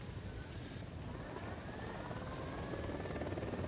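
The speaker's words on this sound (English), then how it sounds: "Chopper's approaching." In the Ghost Recon Wildlands video game, a helicopter's rotor drones steadily as it approaches, a continuous broadband whir that slowly grows louder.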